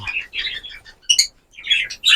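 Bright, high parakeet chirps in quick bursts with short pauses between them, close by and fairly loud.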